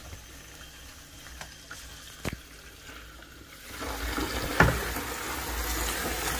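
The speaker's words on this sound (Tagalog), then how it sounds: "Papatulot tayo mga ka-vloggers ng tubig." Tap water runs into a container for mopping a floor, starting partway through as a steady close hiss and splash that continues to the end, with a few small knocks before it.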